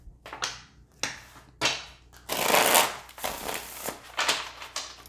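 Oracle cards shuffled for a card reading, a run of crisp riffling bursts and soft flicks with pauses between, close and alone.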